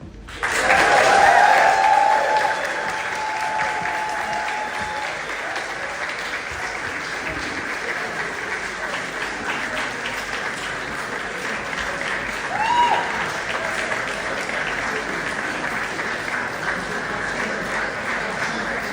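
Loud applause and cheering from a large crowd at the Notting Hill Carnival launch, swelling at first, then settling into steady clapping, with a brief renewed surge of cheers partway through.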